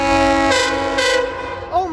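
A loud, sustained multi-tone Amtrak train horn blares close by as the train passes at speed, with whooshing rushes of passing air and a shifting pitch near the end.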